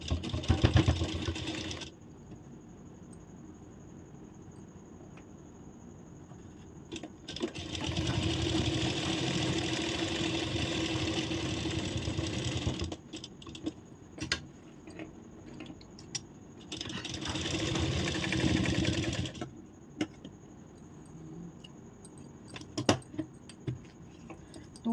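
A sewing machine stitches a shoulder-to-waist tucks blouse in two sustained runs of steady whirring, each several seconds long, with quieter pauses and faint clicks between them.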